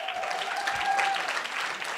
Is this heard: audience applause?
yes